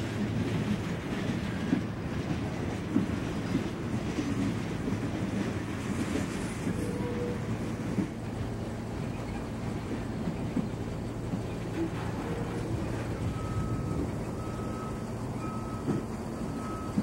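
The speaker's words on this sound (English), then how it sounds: "Long train, still going by." A long freight train rolls steadily past near the C&O Canal towpath between Point of Rocks and Brunswick, Maryland, a continuous loud rumble of wheels and cars with faint clatter and a few high tones, and no voices.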